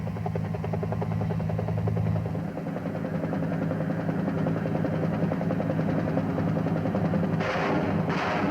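An Air Force UH-1 Huey helicopter gives off a continuous, rapid rotor chop and turbine drone at a steady distance, with a couple of brief sharp bursts near the end.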